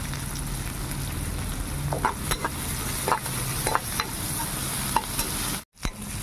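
Onions with green chillies and a pinch of turmeric fry in a pan, giving a steady close sizzle broken by stirring scrapes, with a brief drop to silence near the end.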